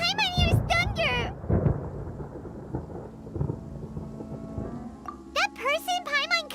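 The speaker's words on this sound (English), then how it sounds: "Paimon hears thunder!" Low thunder rumbles in the Genshin Impact video game, rolling beneath character voices that talk over most of the stretch.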